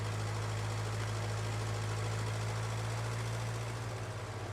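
A tractor engine from the game Xtreme Survival runs at a steady low idle, a constant droning hum with a faint rhythmic pulse, ending in a sudden brief knock.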